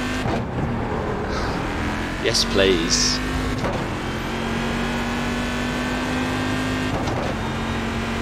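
A GT1 race car in the iRacing sim holds a steady engine drone with a brief pitch sweep partway through, loud and continuous, while a voice speaks briefly over it.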